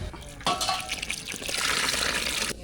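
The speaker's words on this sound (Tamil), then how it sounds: "அது கூட புளி தண்ணி சேர்த்துக்கலாம்" Tamarind water poured into a pot of simmering sambar: a sudden splashing gush of liquid that keeps flowing for about two seconds, then stops abruptly.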